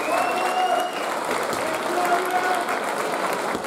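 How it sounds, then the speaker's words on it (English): Loud, steady applause from a crowd, continuous clapping throughout with a faint cheer or voice mixed in. "Let's all round the applause for these 2 weeks."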